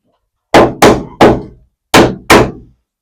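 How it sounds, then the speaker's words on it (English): Five sharp hammer blows on a boat build, loud and close: two quick strikes, a third after a short gap, then a pause and two more, each ringing briefly before fading. "Okay, let's get a hammer."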